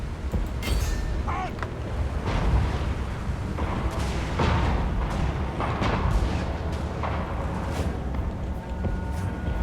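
Gunshots ring out in a Total War: Warhammer battle with dwarf forces and gyrocopters, scattered sharp cracks and booming impacts over a constant rumbling din of combat.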